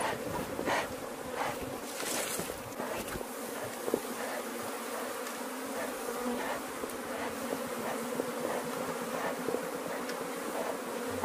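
A honeybee swarm drones in a dense, continuous buzz during a hive split, steady and close throughout with no voices over it.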